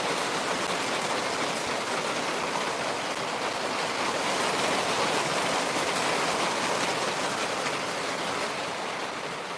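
Steady, dense hiss of heavy rain falling continuously, an even wash of sound with no voices and no breaks.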